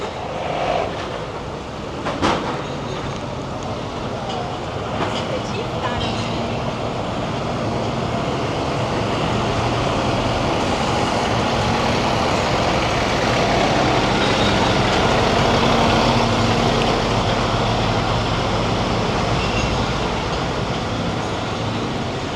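The ride inside a green truck used as a bus near Los Cristianos, Tenerife: a continuous rumbling drone of the vehicle in motion with rattles and clatter, building gradually louder, no talking.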